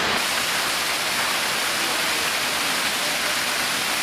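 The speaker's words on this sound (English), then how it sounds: "You see the water has obviously considerably increased in flow." Water rushes through a ProFlex check valve on a flow test rig at 12.8 feet per second, a dense, steady, loud hiss of turbulent flow that never lets up.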